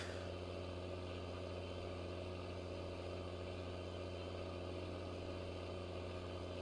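Steady low drone of a tractor engine idling in a farming video game, with a constant hum and even vibration throughout, faint and alone.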